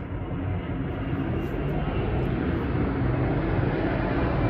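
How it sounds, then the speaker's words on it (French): An airplane passes overhead as a loud, continuous broadband roar that holds steady throughout, with no talking. "Il y a l'avion qui passe."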